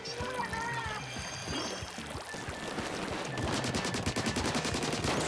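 Rapid ink weapon fire in Splatoon 2 rattles in quick repeated bursts, liquid and splattering, building into a dense stream near the end, with game music and a voice talking over it.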